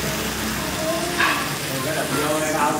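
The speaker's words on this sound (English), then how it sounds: "And it comes sizzling and carrying on." Steak and eggs (bo ne) sizzling on a hot plate at a restaurant in Da Nang, Vietnam, a steady close frying hiss with crackles throughout, with voices and room noise mixed in.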